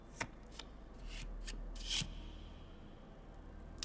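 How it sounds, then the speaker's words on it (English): A deck of cards is shuffled in the game Cosmic Wheel Sisterhood, giving a few soft, quick riffling bursts that are spaced apart and fairly quiet against a faint background. "while I shuffle my deck"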